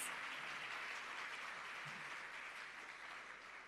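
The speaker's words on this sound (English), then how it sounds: "I think that deserves a big, rousing round of applause." Sustained audience applause at a government ministry rebranding and quality recognition ceremony, a steady wash of many hands clapping, even and continuous, alone without voices.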